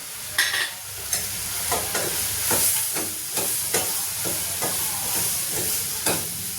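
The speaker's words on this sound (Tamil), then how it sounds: "நல்லா வதங்கினதுக்கப்புறம் இந்த தேங்காயும் சேர்த்து வதக்கிடுங்க." Steady sizzling and frying of grated coconut in a hot pan, with repeated stirring scrapes every half second or so, close and continuous.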